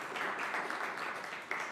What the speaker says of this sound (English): So a round of applause for Martin.